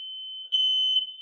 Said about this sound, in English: And these fire alarms are on again.